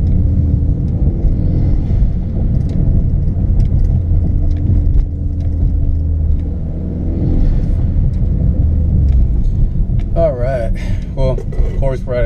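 Steady low engine drone heard from inside a moving Hyundai Veloster Turbo with an Injen intake, a rumbling hum that swells briefly, with some clicking and rattling near the end.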